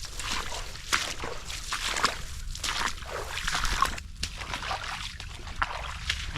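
Footsteps sloshing through water on a flooded creek trail, a steady run of splashing strides with trickling water, moderately quiet and close.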